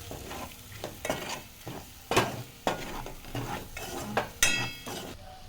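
Masala for Mughlai chicken stirred in hot oil, a spoon scraping the pan in distinct strokes about once a second over a low sizzle, close and clear.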